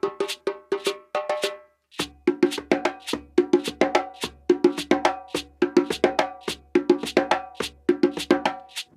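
Djembe played in the Kuku rhythm's third part, using bass, tone and slap strokes in a steady repeating pattern of close, ringing hand strikes, with no voices.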